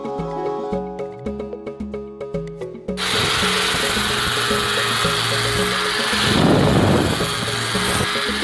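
Wooden pieces being sanded smooth, first as a few short rhythmic rubbing strokes, then a steady loud power sander running continuously and close up, with no talking.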